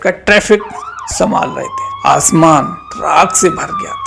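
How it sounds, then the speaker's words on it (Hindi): Emergency sirens wail through the streets of Tehran and Isfahan, a rising and falling tone sitting low beneath continuous narration for the whole stretch. "तेहरान और इस्पान की सड़कों पर सिर्फ सायरनों की आवाज गूंज रही थी।"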